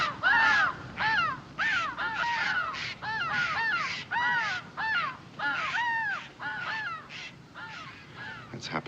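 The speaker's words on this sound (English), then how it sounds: "The jays and the crows squawk at us when we pass." Crows caw again and again in short, harsh bursts, several calls in quick succession with brief pauses between groups, close and clear over a quiet outdoor background.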